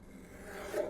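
A restored 1963 paper cutter blade slices a very thin strip from a sheet, giving one short rasping cut that swells toward the end, close and fairly quiet.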